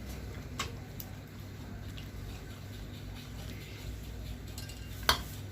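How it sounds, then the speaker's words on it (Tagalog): An egg is cracked into a separate bowl while preparing a carrot cake batter. Light kitchen taps sit over a low steady hum, then one sharp, close crack lands near the end. "let's crack it first in separate bowl"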